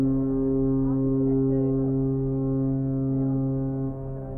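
A deep, sustained cruise ship horn blares loudly and steadily for several seconds as the ship departs Sydney, a single long low honk that fades slightly at the end.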